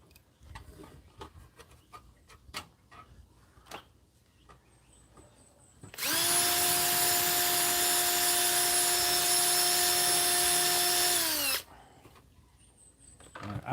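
A power drill bores a hole through the muffler shroud of an Echo leaf blower during a field repair, a loud steady whine starting abruptly and running about six seconds before cutting off, with quieter handling noises around it.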